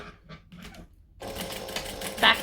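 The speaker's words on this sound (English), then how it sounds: "And I'm going to top stitch that down." A sewing machine top stitching a batwing wallet starts after a brief quiet stretch of faint handling noise, then runs in a steady fast mechanical whir close by, with no talking.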